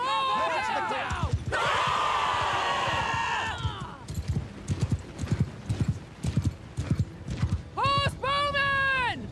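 Horse archers' hooves clip-clop in rapid, dense rhythm in a fantasy battle video game, with whinnies, a shouting crowd and voiced commands over the galloping.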